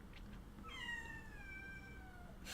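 A cat meows in a long, drawn-out call with a falling pitch, fairly faint and heard alone over a quiet background hiss, with no talking during it.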